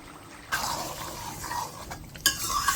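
A spoon stirs bottle gourd curry in a metal pot, faint scraping and clinking strokes with soft wet sloshing, a sharper clink near the end.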